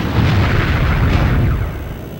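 Rocket weapon detonation in the futuristic racing game Wipeout 3, a loud, dense boom with a broad rumbling tail that fades slowly over about two seconds.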